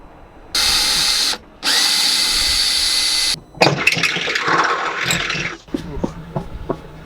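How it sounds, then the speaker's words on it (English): A power drill boring mounting holes for a Hydrovane self-steering strut on a Beneteau sailboat, two long steady whirring bursts followed by rougher grinding and clattering, close and loud. "All the holes are drilled."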